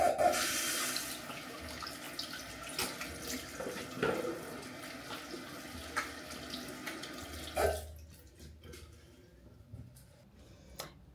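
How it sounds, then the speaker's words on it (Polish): Shower water runs with a steady splashing hiss, loud at first and fading slightly, then cuts off near the end, leaving a few faint drips and clicks. "idę pod prysznic teraz"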